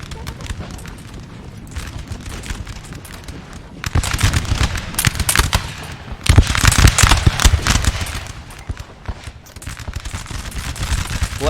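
Chasseur infantry firing muskets in the Napoleon Total War battle of Montebello, 1800: crackling volleys of shots in bursts, swelling louder in the middle, with battlefield noise throughout.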